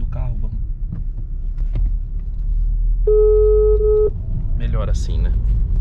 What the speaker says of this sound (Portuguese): Vou ligar agora pra dona Dirce.